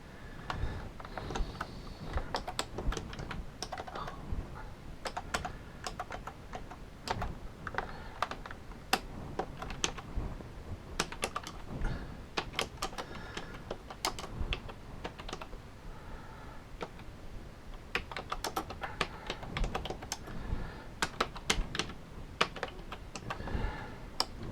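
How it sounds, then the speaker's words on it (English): Close, steady typing on a computer keyboard at a workbench, with quick irregular key clicks continuing throughout with no talking. "Oh, this keyboard is just lovely."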